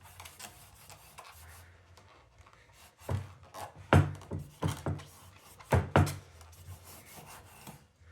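A knife blade being honed on a homemade leather strop: a series of soft rubbing strokes, a few louder close swipes clustered in the middle, no voices.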